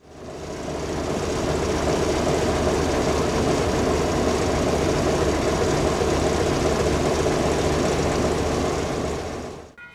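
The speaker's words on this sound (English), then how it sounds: "1953 idling Baldwin diesel." A 1953 Baldwin diesel locomotive idles on a scenic excursion railroad, a steady, deep engine drone heard close and alone for most of the stretch before cutting off abruptly at the end.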